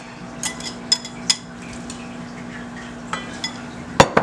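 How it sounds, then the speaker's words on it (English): Pumpkin being mixed into cake batter in a bowl, with several sharp utensil clinks and scrapes against the bowl at irregular intervals over a steady low hum, no talking. "I'm gonna mix this up and mix it up well, combine together well"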